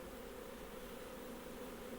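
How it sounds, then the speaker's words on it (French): Honeybees buzz steadily at a hive during a beekeeping inspection, a continuous close droning hum with no voices over it. "Ah par contre t'as une abeille. Attends, j'en ai une juste là. J'en ai une là qui essaie de rentrer."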